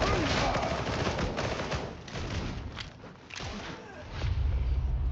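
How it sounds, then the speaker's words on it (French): Machine gun fire rattles in the Darktide video game as sustained bursts of dense gunfire, mixed with thuds and movement. A heavy low rumble rises near the end. "C'est qui mitraille là?"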